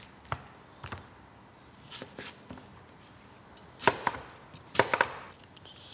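A knife coarsely chops an onion, skins included, for a homemade stock: sparse, irregular close knocks on a board, a few single cuts early on and sharper clustered strikes near the end, with quiet gaps between.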